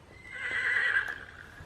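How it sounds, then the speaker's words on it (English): A horse neighs once in a short, shrill whinny that rises and fades, heard fairly faint and alone. "Can you hear the noisy horse?"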